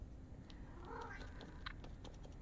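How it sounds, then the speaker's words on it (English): An indoor cat meows for attention, a faint, low, drawn-out cry over soft background noise and small scattered clicks nearby. "I have a very needy cat."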